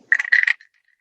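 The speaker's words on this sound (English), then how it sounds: "got a guiro here, little frog guiro." A short ratcheting burst of wooden clicks from a small frog-shaped guiro being scraped quickly along its ridges, close and crisp, ending abruptly into silence.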